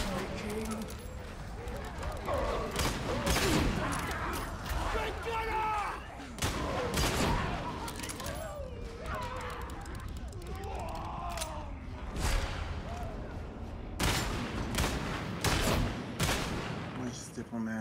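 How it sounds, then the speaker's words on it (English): Grenade launcher firing in the video game Darktide, heavy bursts and explosions popping repeatedly amid dense combat noise, with a voice talking over the chaotic action. "This is the grenade launcher. It launches grenades."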